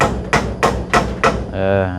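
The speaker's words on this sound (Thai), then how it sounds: "บ่ตอกตะปูตันไว้ก่อน" A hammer drives a nail with four evenly spaced, solid strikes at a steady rhythm, loud and close, followed by a brief ringing tone as the blows stop.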